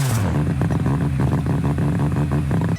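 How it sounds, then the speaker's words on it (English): Ostomiko engine from the Rocket League video game: a loud, close racing engine drones and revs in a steady pulsing rhythm, cutting off abruptly at the end. "At 47 we've got the Ostomiko engine sound, and it's got some crazy racing sounds to it."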